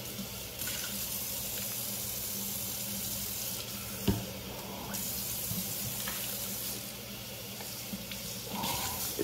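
A kitchen faucet runs steadily as a thick plastic portable battery blender canister is rinsed at the sink, the flow broken now and then by brief clunks of the container against the basin.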